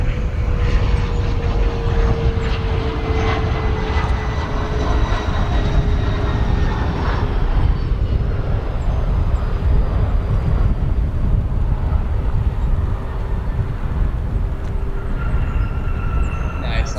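A Bombardier CRJ 200 regional jet landing at Chicago O'Hare International Airport, a steady broad roar of engine and rushing air with a faint whining tone, constant and fairly loud throughout.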